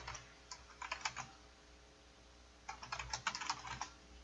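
Keys tapped on a computer keyboard while writing a Google blog post, coming in two short bursts separated by a quiet gap. The clicks are close and crisp.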